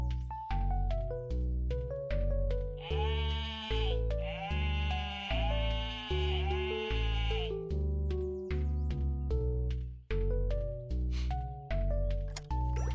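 Sheep bleat repeatedly in the Terra Cards video game, with loud, tonal, drawn-out calls following one after another over a steady electronic backing.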